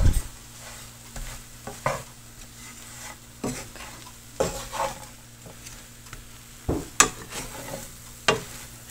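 Caramel-coated bread popcorn stirred in a hot pan, with a spoon scraping and clattering against the pan at irregular intervals over a steady low sizzle and hum, close and moderately loud, no talking.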